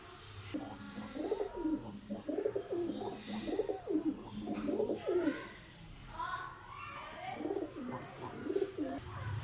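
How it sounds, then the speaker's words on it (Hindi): A pigeon coos in a series of soft, low, throaty phrases, repeating rhythmically and heard close by in a quiet setting. "ये कबूतर है।"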